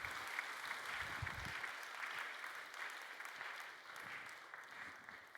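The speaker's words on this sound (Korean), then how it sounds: "우리 다시 축하의 박수." A church congregation claps in celebration during a Sunday service, a steady, fairly distant wash of many hands continuing throughout at moderate volume, without voices over it.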